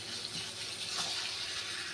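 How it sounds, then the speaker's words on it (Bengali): Water pours steadily into a pot of cooking mutton, a close, continuous gushing splash lasting a couple of seconds with no talk. "এবার জল ঢেলে দিচ্ছি।"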